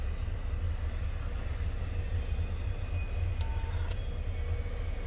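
A freight train rolls past near a derailment site, a steady, loud low rumble of wheels and cars that holds for the whole stretch, with a faint high tone and a brief click partway through.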